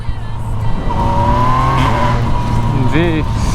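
Yamaha MT-09 motorcycle making a quickshifter pass through a tunnel, loud and close, its engine note rising through gears with a brief shift break near the end, echoing off the tunnel walls.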